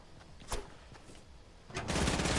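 Rapid game gunfire from a shooter match, a short burst near the half-second mark and then a loud, dense sustained volley of shots over the final second, with no talking.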